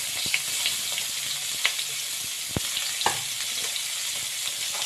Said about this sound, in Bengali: যেটুকু তেল আছে এর মধ্যে আমি এবার ফুলকপিটা ভেজে নেব